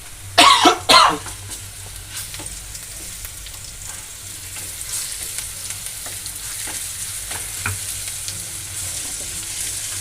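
Ginger garlic paste fries with onions in a pan for aloo paratha, a soft steady sizzle with occasional stirring scrapes, opening with a brief burst of coughing nearby.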